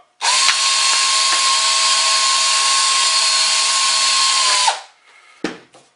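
A power drill whines steadily for about four and a half seconds at close range, drilling a hole for a straw, then spins down and stops, followed by a couple of brief knocks.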